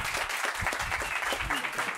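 Audience applause at a Campus Party presentation in Mexico, a brief, dense burst of crowd clapping with a voice talking over it.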